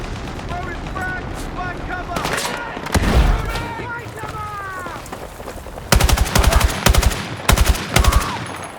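Machine gun fire in the video game Battlefield 6 comes in loud, rapid bursts that crowd the later seconds, preceded by shouted in-game voices, other effects and a heavy boom.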